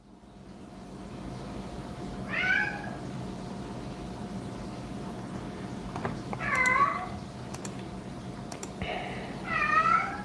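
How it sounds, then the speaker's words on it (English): A cat meows three times, each a clear, drawn-out call spaced a few seconds apart, heard indoors over a low steady hum with faint clicks between. "I'm gonna choke this cat out in a second."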